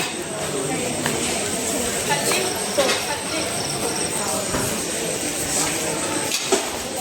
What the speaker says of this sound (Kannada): ನಮ್ಮ ಕಲಬುರಗಿ ರೈಲ್ವೆ ಸ್ಟೇಷನ್ ನೋಡ್ರಿ ಹಿಂಗೈತಿ ಫುಲ್ಲು ಜನ ಐತಿ ನೋಡ್ರಿ